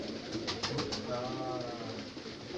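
Soft pigeon coos repeat faintly in a Karachi pigeon loft, under steady background hiss.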